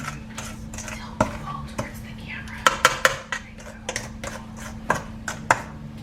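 A spatula scrapes and clinks around the sides of a mixing bowl of pound cake batter, a string of sharp, close knocks and scrapes spaced irregularly, with quiet talk in the background.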